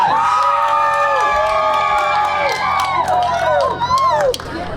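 A live crowd at a cooking competition event in Lake Havasu cheers loudly for Harley's and Hot Rods, with sustained whoops and shouts close by.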